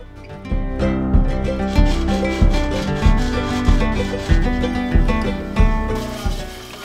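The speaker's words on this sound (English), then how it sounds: "I then came back with some sandpaper and sanded off the burrs on the edges" Sandpaper rubs burrs off the cut edges of a metal pot in loud, close, rhythmic strokes, roughly one scrape every 0.6 seconds.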